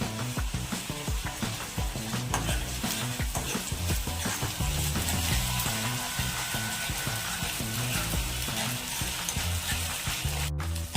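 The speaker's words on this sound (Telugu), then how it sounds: "ఇది కూడా పచ్చి వాసన పోయేంత వరకు వేయించుకున్నాం" Ginger-garlic paste frying in hot oil for chicken fry, a dense continuous sizzle with frequent crackles and stirring scrapes, close and loud throughout.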